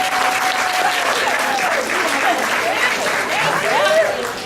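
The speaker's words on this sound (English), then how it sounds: "Was that the applause for Courtney and Sandy?" An audience at a public talk on race and allyship breaks into sustained, dense applause, with scattered whistles and cheers rising over the clapping for the full stretch.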